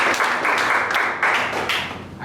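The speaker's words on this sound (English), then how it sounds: "a round of applause." Audience applause at a San Francisco Selenium tech meetup, a dense steady wash of clapping from a room full of people that fills the whole stretch without pause.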